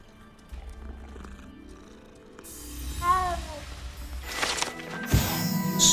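A cat purrs and meows in the Hogwarts Legacy video game, close and fairly loud, with brief rising vocal calls in the middle and other game sounds toward the end.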